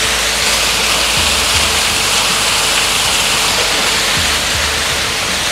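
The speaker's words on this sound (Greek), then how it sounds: "Εδώ και το συντριβάνι, βλέπετε, είναι τρεχούμενο νερό." Running water from a fountain in a public square in Catania, Sicily, a loud, steady broadband rush and splash that fills the whole stretch without pause, with faint low thumps underneath.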